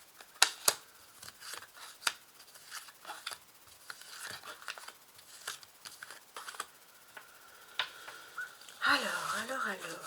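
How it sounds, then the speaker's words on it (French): Tarot cards being laid out one by one on a table make a run of crisp taps and soft slides, with a voice talking over them. "Alors, je suis en train de placer mes cartes."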